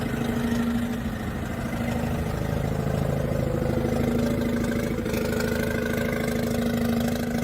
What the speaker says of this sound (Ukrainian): Ось ще представник Рено.